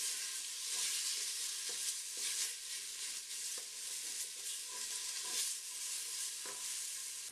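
Minced pork and fat sizzle and fry in vegetable oil in a pan for split pea soup, a steady bright hiss with occasional stirring scrapes, close and continuous.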